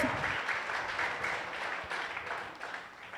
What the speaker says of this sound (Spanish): ¿Cuántos pueden aplaudir al Cristo de la gloria?